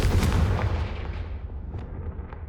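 A deep, booming fiery blast from the Confringo spell in the video game Hogwarts Legacy erupts loudly and then rumbles away over a couple of seconds.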